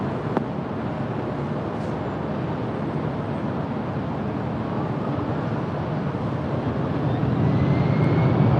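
Jet airliner taking off from a runway at LAX, a steady broad roar of engines with wind buffeting that builds slightly toward the end and no voices.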